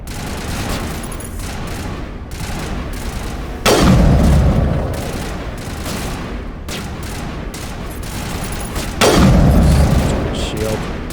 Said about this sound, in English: This fool shooting rockets at me from a long distance.